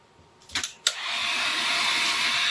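Several quick clicks and bursts, then a heat tool starts with a steady, close airy whoosh that holds continuously as it dries fresh acrylic paint on a glass-art daisy piece.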